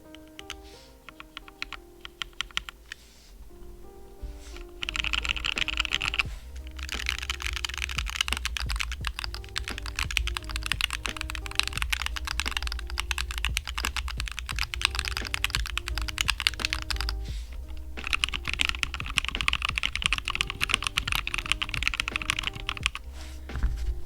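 Continuous, fairly loud typing on a custom wireless Reviung41 keyboard fitted with a nice!nano controller. The key clicks come thick and steady with only brief lulls, and no voices are heard.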